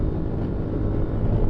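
Aprilia Tuareg 660 motorcycle riding in 6th gear on a closed test track, its low exhaust drone steady under heavy rushing wind buffeting the microphone, close and loud throughout.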